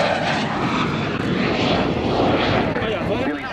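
A MiG-15 jet fighter flying at an airshow makes a loud, sustained jet roar with surging texture, and an announcer talks over it throughout.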